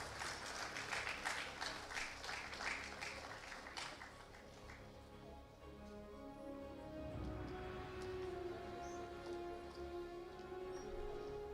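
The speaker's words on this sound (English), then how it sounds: "Big round of applause, ladies and gentlemen." An audience at a national conference award ceremony claps for a prize winner, a quiet patter of hands for about four seconds that then thins out under a faint held tone and low room murmur.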